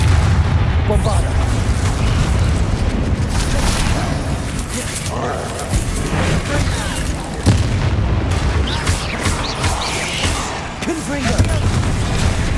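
Repeated heavy explosion blasts from the Bombarda spell thud through a long Hogwarts Legacy video game battle, booms recurring every few seconds amid gunfire-like cracks and speech.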